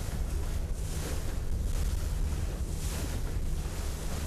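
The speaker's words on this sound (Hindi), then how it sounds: "लहरों की वजह से कश्ती ने एक से दूसरी सिमत झूलना शुरू कर दिया है" Ocean waves wash around a small boat at sea, a steady broadband rushing with slow swells and wind buffeting on the microphone, with no voices.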